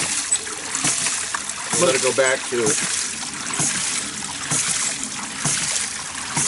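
A pump lifts water from a 190-foot well to supply cattle, giving splashing, gurgling trickles and rough mechanical noises beneath a man's nearby speech.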